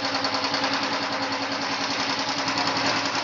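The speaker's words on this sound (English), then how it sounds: "So now I have started the bike." Royal Enfield Himalayan motorcycle engine with a CV carburetor idling steadily just after starting, a close, continuous loud mechanical chatter with no pauses.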